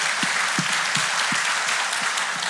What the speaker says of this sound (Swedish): vi ger en applåd för det.